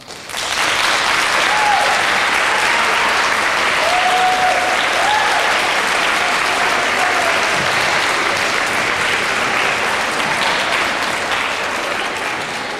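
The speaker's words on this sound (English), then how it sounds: "you're going to answer by applauding" A school audience applauds loudly and steadily for the full stretch, a dense, sustained wash of clapping from many hands with no break.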